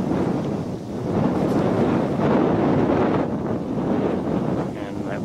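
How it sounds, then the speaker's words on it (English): Strong wind gusting across an open outdoor spot during winter birdwatching, a steady loud roar buffeting the microphone throughout with no pauses. "Wind is picking up again."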